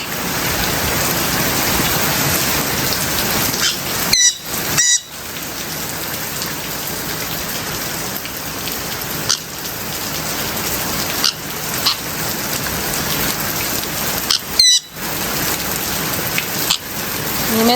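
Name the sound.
heavy rain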